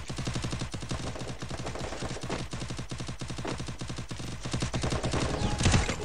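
Rapid, continuous bursts of automatic video game gunfire rattle without pause, loud and close, swelling slightly near the end.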